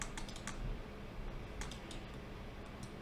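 Computer keyboard keys pressed in quick clusters of soft clicks, a burst at the start, another midway and a few near the end, quiet and close with a low background hum.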